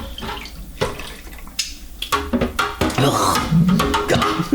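Hot water runs from a kitchen tap into a container for dissolving sugar for home brew, a steady splashing flow with clattering handling sounds and some movement nearby.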